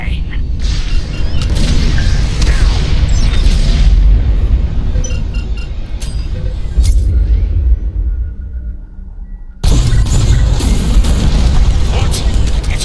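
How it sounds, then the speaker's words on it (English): Bombs explode during a bombing raid in the Star Wars Squadrons space-combat game, loud booming blasts and deep rumbles layered with engine roar and busy effects, a lull near the end before another heavy burst. "It's bombs away."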